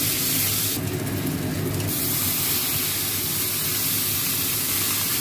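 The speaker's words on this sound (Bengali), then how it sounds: "আমি ফোড়ন দিচ্ছি শুকনো লঙ্কা" Dried red chillies and five-spice tempering crackle in hot oil in a kadai, a steady, loud, close hiss that runs throughout with a brief brighter sputter near the start.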